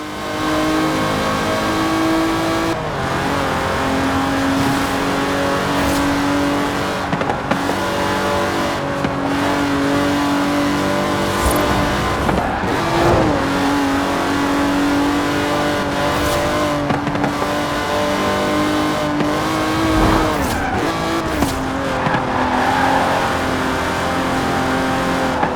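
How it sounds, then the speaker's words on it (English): A 1960s Aston Martin DB5 Vantage with side-draft carburettors is driven hard in Forza Horizon 4. The engine revs up and down through gear changes with brief tire squeals, loud and close, and no one speaks. "The Aston Martin DB5 Vantage was the quintessential Grand Tourer of the 1960s."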